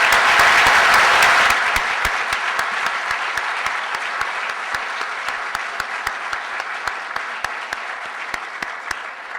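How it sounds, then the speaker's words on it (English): Loud applause from a seated audience at an economics panel on the current economic crisis, starting dense and strong, then thinning to scattered individual claps over several seconds. "So round of applause."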